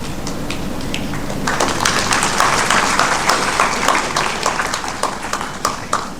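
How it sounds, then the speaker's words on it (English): An audience at a White Coat Ceremony at JNMC, Aligarh Muslim University, breaks into applause, the clapping swelling after a quiet start into dense, sustained hand-claps that stay lively to the end. "Please give a round of applause."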